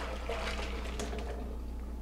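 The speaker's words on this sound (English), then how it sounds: "Put this in the sink, pour the potatoes into this, then put this right up on top of the pan" Hot water and boiled potatoes are poured through a food mill into a kitchen sink, a steady rushing splash with a small knock midway.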